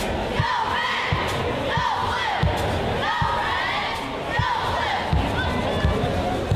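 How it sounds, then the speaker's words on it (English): Martinsville cheer squad performing at a high school basketball game, a loud indoor crowd of shouts and chants with rhythmic thuds of stomps or claps recurring steadily throughout. "There you can see Martinsville's cheer squad getting it done."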